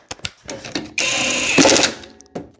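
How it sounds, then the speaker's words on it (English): An old Harbor Freight impact driver on low speed tightens screws while reassembling a free lawn mower outdoors, giving a loud, close mechanical buzz of about a second with hammering bursts and a few short clicks around it. "So I'm grabbing the impact because I'm so tired of hand screwing."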